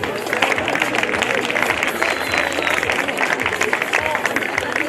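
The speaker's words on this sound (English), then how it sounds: "One last round of applause." A crowd at a high school semester awards ceremony applauds in a steady, dense wash of clapping that lasts throughout, with some voices mixed in.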